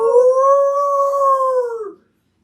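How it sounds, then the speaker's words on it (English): A single long wolf or dog howl plays as a sound effect in a tabletop role-playing session. It is loud and clear, holds a steady pitch for nearly two seconds, then trails off into silence. "Then you hear a howl."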